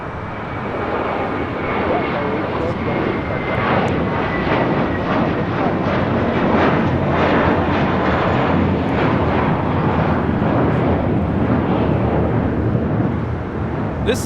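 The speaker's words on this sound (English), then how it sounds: "This is American 2965 taking off to Dallas-Fort Worth on an A321" An American Airlines A321 jet taking off from LAX, a loud, sustained engine roar that swells within the first second and keeps rumbling strongly throughout, with a faint high whine riding on top.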